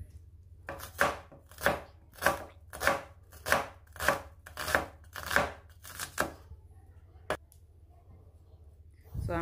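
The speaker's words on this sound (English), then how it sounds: "So I'm using two onions, okay? So yeah, I just finished slicing one. This is the second one." A knife slices through an onion on a cutting board with about nine steady, evenly spaced cuts, then stops, followed by a lone sharp click and quiet room tone.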